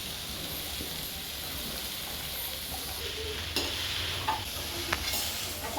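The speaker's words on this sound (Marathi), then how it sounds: "परत मसाला मी त्याच्यामध्ये ना साबुदाणे टाकून घेणार आहे." Sabudana mixture with salt and spices is stirred in a frying pan over a steady close sizzle, with a few sharp scraping strokes of the utensil near the end and no voices.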